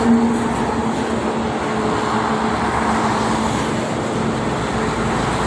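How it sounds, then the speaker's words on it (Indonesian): Steady roadway roar from freight trucks and other traffic on the Jakarta–Cikampek toll road, a continuous dense wash of engine and tire noise with no distinct pass-bys and no speech. "Truk angkutan barang"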